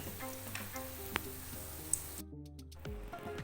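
Vettu cake fries in hot oil with a faint, even crackling sizzle under light background music, then the sizzle drops away as the music carries on.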